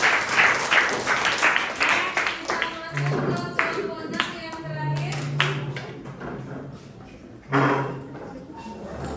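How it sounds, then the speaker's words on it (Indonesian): Classroom students clap for group 5 in a brief, uneven burst of hands. A few taps and bumps follow, and a voice speaks faintly underneath. "Tepuk tangan dulu buat kelompok 5"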